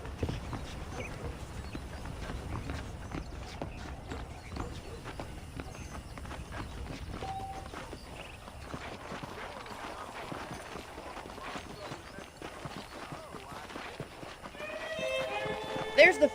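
In Red Dead Redemption 2, horse hooves clip-clop steadily at a walking pace under a person talking, with faint background ambience and a brief chirping near the end.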